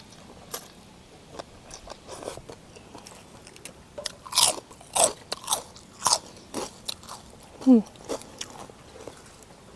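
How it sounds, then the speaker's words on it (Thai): Close-up eating of soft khanom jeen rice noodles: a run of wet bites and chewing with smacking mouth sounds, louder toward the end, no talking. "มาจ้ะ ซิมสินขนมจีนก่อนเลย"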